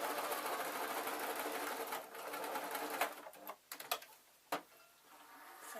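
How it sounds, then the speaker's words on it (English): A sewing machine runs a strong stitch along the side of fabric for a pin tray, humming steadily for about three seconds, then slowing into a few separate stitches and stops before starting again. "I'm going to do a good strong stitch along the side"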